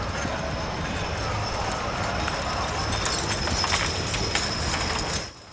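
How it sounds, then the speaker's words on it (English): Heavy draft horses move across a fair arena, their hooves thudding in a continuous, dense clatter over a steady background din, fairly loud throughout before cutting off abruptly at the end. "the draft horses dominate the arena"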